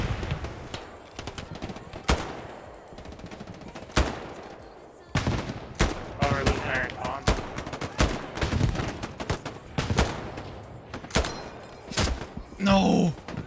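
Gunfire in the World War II shooter Hell Let Loose: repeated sharp shots and bursts, some close and loud, others distant, irregularly spaced over a noisy battlefield.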